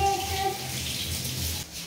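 Tap water runs steadily into a sink while carrots are washed by hand in a home kitchen, a close continuous splashing stream.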